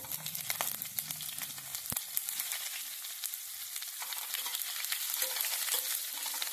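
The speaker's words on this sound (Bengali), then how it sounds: "এবার উচ্ছেগুলো দিয়ে মিনিট দুয়ে একটু লাল লাল করে ভেজে নেব" Bitter gourd pieces frying in oil with a tempering of mustard seed and radhuni for Bengali shukto, giving a soft, steady sizzle with light stirring and a sharp clack of the utensil early on.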